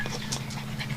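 Two dogs pant steadily and close by, quick breathy huffs repeating in a continuous rhythm over a low background hum, with no talking.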